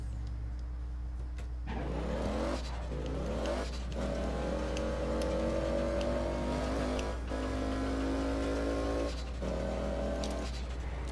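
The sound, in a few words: damaged car driving in APB Reloaded video game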